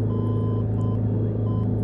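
A faint, steady Morse identifier tone from a navigation aid beeps in short repeated pulses inside a Cessna Skymaster cockpit, nearly buried under a loud, constant engine drone.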